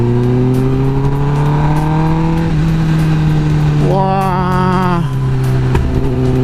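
Kawasaki Ninja ZX-10R engine revving up through the gears on a test ride, a loud rising whine that drops at each shift and climbs again, with a short spoken exclamation over it.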